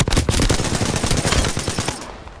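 Rapid automatic gunfire in Apex Legends, a dense burst of loud, close shots rattling continuously for about two seconds before trailing off.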